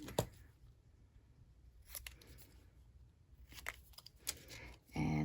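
Scissors trimming a paper greeting card, a double gate fun fold card, giving a few separate crisp snips spaced apart, near and fairly quiet, over faint room noise with a brief rustle at the end.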